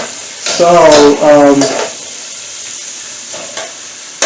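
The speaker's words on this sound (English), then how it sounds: "we're gonna put the onions inside, and you stir it" Onions frying in a pan and being stirred give a soft, steady sizzle that fades lower after a brief voice-like sound near the start, with a couple of light utensil knocks.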